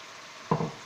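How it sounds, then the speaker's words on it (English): Strained kidney beans dropped into a pan of hot curry sauce for rajma: a short burst of sizzle and a soft plop after a near-silent half second, then a brief fading crackle. "now I'm going to add in the kidney beans"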